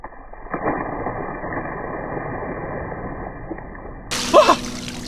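Water is thrown and splashes onto a waterproof IP68 electric scooter outdoors near the ocean, a low sloshing wash under a faint steady hum, with a sharper splash near the end.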